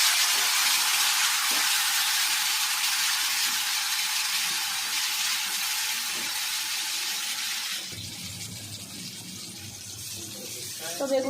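Salt-and-turmeric-coated eggplant frying in oil, a loud steady broadband sizzle for most of the stretch that drops sharply to a quieter crackle near the end, with no talk.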